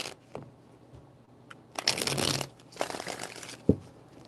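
Tarot cards riffled and shuffled by hand in a few quick, soft papery bursts, close and fairly quiet, with brief pauses between them.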